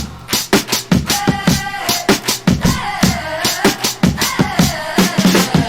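Layered hip-hop sample chop and punchy drum break from a remake of a song, with rhythmic kicks and snares hitting steadily under a chopped melodic sample, loud and dense.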